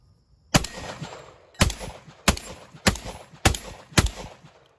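Panzer Arms EG200 semi-automatic shotgun firing number 4 high brass shells outdoors at a range: six loud, sharp blasts spaced roughly half a second to a second apart, each with a short decaying echo.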